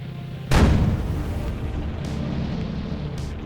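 A 720mm landship cannon in Geometric Internals fires a single heavy booming blast, followed by a low rumbling tail that lingers for a few seconds.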